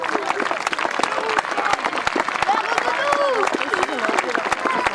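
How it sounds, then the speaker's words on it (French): Crowd applause at an outdoor archaeological park event for costumed Gaulish foot-soldier performers, many hands clapping in a thick steady patter, with voices talking and calling out over it throughout. "On peut applaudir très fort les fantassins de l'association Les Léouki"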